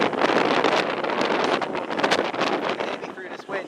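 Strong gusts of wind buffet the microphone on a railway station platform at Banbury, a loud uneven roar and rustle that swells and dips, heard alone.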